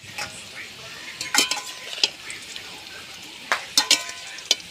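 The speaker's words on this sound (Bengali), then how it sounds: "এবার আলুগুলো ভাজা হচ্ছে" Potatoes fry in a pan for a meat curry, a soft steady sizzle punctuated by a handful of sharp metallic scrapes and clinks as they are stirred.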